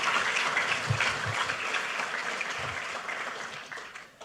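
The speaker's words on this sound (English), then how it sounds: "How about another round of applause for Mr. Forrest?" Audience applause at a National Archives event marking the 250th anniversary of the Declaration of Independence, steady clapping from a sizable crowd that gradually tapers off toward the end.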